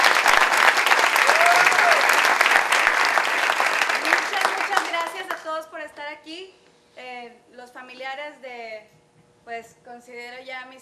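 An audience at a theatre performance claps loudly for several seconds, the applause dense and sustained before fading out as a voice begins speaking over the tail end.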